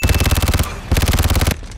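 A machine gun fires in an action movie, two loud close bursts of rapid, evenly spaced shots with a short gap between, each burst under a second long.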